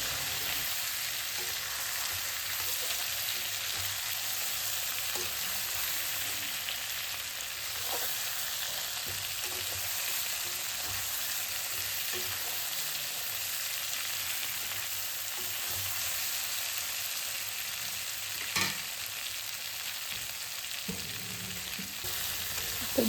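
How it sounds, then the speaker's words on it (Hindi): Potatoes and eggplant frying in a pan, a steady, even sizzle throughout with occasional soft stirring clinks, close and without talk. "हमने आलू काट कर रख लिए थे, तो आलू भी हमने इसी में डाल दिए हैं। अब उनको अच्छे से हम फ्राई करेंगे।"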